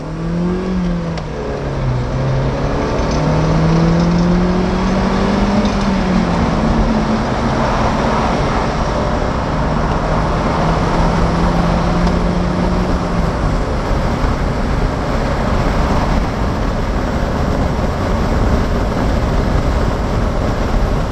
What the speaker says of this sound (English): We shall give it some acceleration testing.